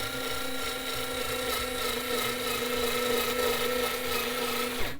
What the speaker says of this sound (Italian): proviamo a fare un preforo da questa parte e quindi proviamo ad avvitare un'altra vite.